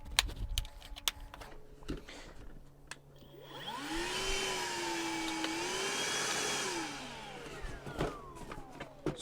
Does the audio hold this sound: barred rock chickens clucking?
no